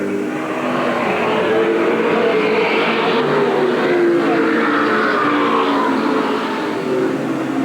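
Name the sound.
race cars driving at Eugene Speedway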